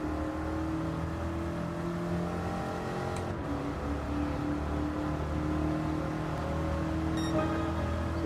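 A 1969 Chevrolet Corvette C3 convertible in Gran Turismo 7, its V8 engine droning steadily at sustained revs with a low, continuous roar and slight pitch shifts throughout.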